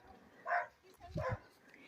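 Dogs bark in a Ukrainian yard during a visit with a neighbor. Two short, fairly soft barks or yips come about half a second apart against quiet background sound.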